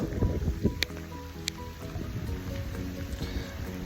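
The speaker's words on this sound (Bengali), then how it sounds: "দেখো হঠাৎ করে বৃষ্টি শুরু হয়ে গেল" Sudden rain falls outdoors in a garden under a cloudy sky, a dense patter of drops with a few sharp taps close by and a low rumble underneath.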